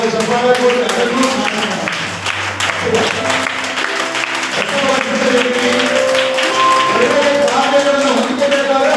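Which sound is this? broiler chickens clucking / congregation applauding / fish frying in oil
congregation applauding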